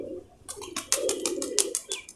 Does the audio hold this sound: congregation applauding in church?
no